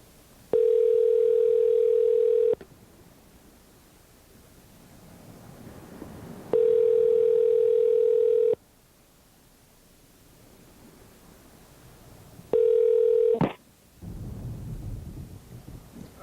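Telephone handset tone sounding in three steady long beeps separated by pauses, followed by a brief burst of clicking and rumbling noise as the call connects.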